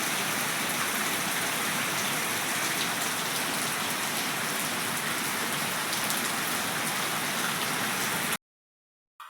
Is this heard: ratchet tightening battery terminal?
no